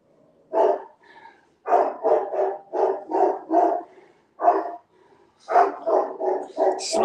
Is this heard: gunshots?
no